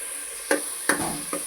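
Curry leaves go into hot oil in a pan while Nellore-style Muslim katta dalcha is cooked, giving a steady hiss of sizzling broken by three sharp clacks of stirring, close by and with no talk.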